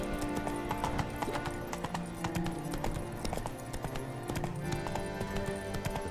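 Roach, the horse in The Witcher 3, gallops with a fast, rhythmic clip-clop of hooves close by, a neigh or whinny cutting in and game music and ambient sound underneath.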